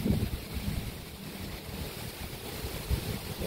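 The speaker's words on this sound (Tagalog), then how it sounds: "Very strong wind." Strong typhoon wind roars and buffets steadily outdoors, a dense, rushing blast with gusty surges and heavy microphone buffeting, with no voices.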